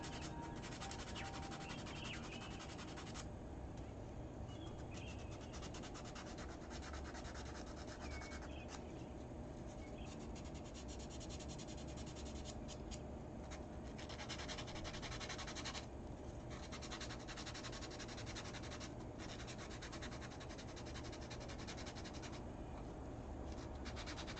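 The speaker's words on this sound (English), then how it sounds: "It looks like actually the sandpaper is doing a pretty good job." Sandpaper rubbed over a piece of metal, a steady, continuous gritty scraping that keeps up without pause throughout, fairly close and quiet.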